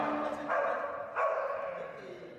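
Dogs barking at an orchestra audition, two muffled barks about half a second apart sounding over a faint steady background.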